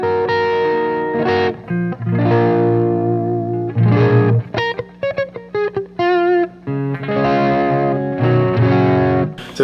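Electric guitar on a clean tone with its volume knob rolled down to about 2.5, giving a warm, full sound; chords and single notes ring out loud and close, with short gaps between phrases and no talking.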